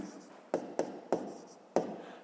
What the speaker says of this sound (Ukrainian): Пишемо три наступних